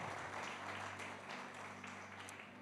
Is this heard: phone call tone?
no